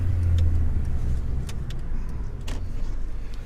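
A car drives and turns around, likely the 2003 BMW E46 M3 CSL bought at a Japanese car auction, giving a steady close interior engine hum and road noise with a few faint clicks and rattles.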